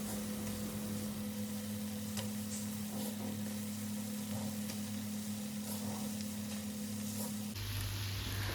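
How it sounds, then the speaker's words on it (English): Boiled potato cubes frying and being tossed in an oily masala for Odia aloo kasa, a steady close sizzle with a low hum, soft stirring scrapes, and a sharp shift near the end as the pan is moved. "Toss boiled potatoes well so every cube is coated."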